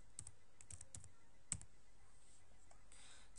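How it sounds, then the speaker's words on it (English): Keys clatter on a computer keyboard as a short name is typed, a few quick clusters of clicks separated by brief gaps, close and quiet over a faint room hiss. "I will type my name."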